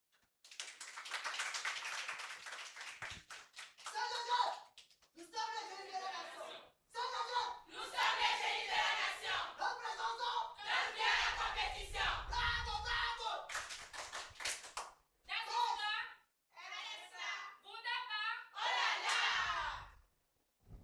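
An audience at a school quiz contest applauding and cheering for the Collège Saint-Joseph team, bursts of clapping and shouting in several waves with brief pauses between them.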